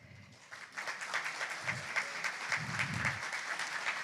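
An audience at a community fireside chat claps in a steady, moderately distant round of applause, with low murmuring and some movement underneath.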